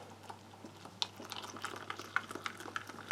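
A spork handle stirs a chilli con carne ration pack, making faint, close scraping and small clicking taps that recur irregularly over quiet background hiss.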